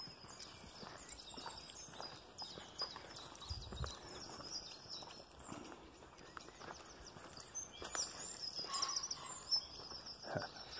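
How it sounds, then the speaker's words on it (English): Birds sing in a spring woodland, scattered high chirps and trills through the whole stretch alongside soft footsteps and rustling on a walk, faint and distant with no voices. "The birds know it's spring, singing their hearts out."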